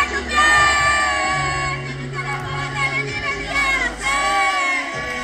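Concert crowd at a show in Dallas cheering and shouting together, a dense roar of voices with music tones sustained throughout.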